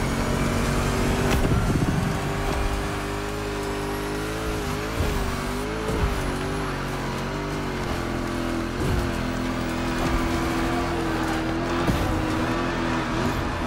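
A car in The Crew Motorfest roars along and slides sideways, a loud sustained engine drone with wavering pitch, tire noise and a few thumping bumps throughout.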